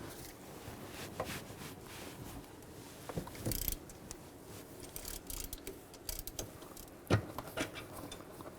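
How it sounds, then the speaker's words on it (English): A ratchet with a 15mm socket clicks in quick bursts while alternator bolts come off a 2000-06 GMC Yukon, quiet mechanical ratcheting scattered over a low background, with no voices. "And take these two bolts out. I'm going to use a 15mm socket."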